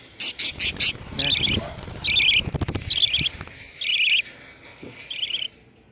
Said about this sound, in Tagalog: Papa-free flight ko tong parakeet ko.